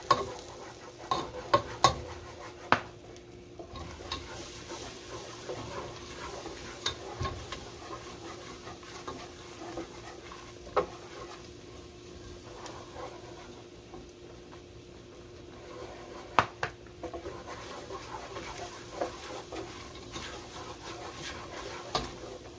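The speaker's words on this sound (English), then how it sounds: "I'm going to continue mixing it so that none of it burns." Flour being stirred into a simmering sauce for baked mac and cheese: a steady scraping and stirring in a pan over a faint sizzle, with occasional sharp clicks of the utensil.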